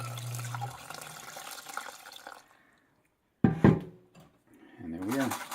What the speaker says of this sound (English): And put in your other 2 cups of water.